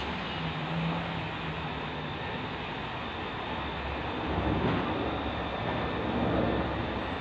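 A steady, broad roar of a large aircraft passing overhead, swelling slightly louder toward the end, with no voices.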